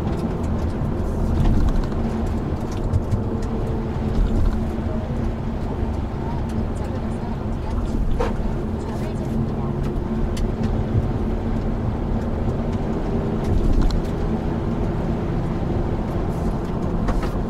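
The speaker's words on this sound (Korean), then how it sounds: "지금 이제 3단으로 주행을 하고 있는 상태고요." A Hyundai Veloster N drives in third gear, its steady engine drone and road noise filling the cabin under continuous talk.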